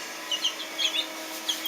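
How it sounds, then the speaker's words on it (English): Six young chickens cheep and cluck in small, high-pitched bursts scattered irregularly across the clip, fairly close, with no talking over them. "that is 2 ducks and 6 little chickens"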